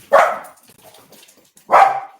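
A dog barks twice nearby, two loud sharp barks separated by a pause of over a second, indoors at home.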